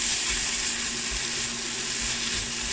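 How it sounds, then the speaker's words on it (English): Loud, steady sizzling and crackling of mushrooms and onion dry frying without oil in a hot pan, continuous and close. "We're gonna be dry frying these"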